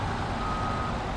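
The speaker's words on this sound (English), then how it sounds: "That reversing beep is loud." Truck reversing alarm in the video game SnowRunner: a loud, steady electronic beep tone sounding continuously over a low engine rumble, with no speech.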